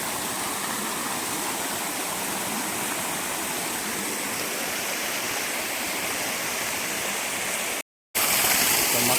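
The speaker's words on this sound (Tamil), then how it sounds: "கீழே தான் அந்த நீர் வீழ்ச்சி ஊற்று தான்" Steady, full roar of a waterfall in a little-known spot in Puthur Nadu, close and continuous, with rushing water filling the whole clip apart from a brief cut near the end.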